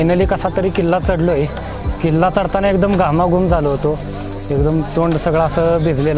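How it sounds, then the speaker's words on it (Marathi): Crickets in the jungle at Vasota fort keep up a continuous high-pitched chirring, loud and steady, while someone talks over it the whole time. "इथं मोठ्या प्रमाणात रातकिड्यांचा आवाज येतोय."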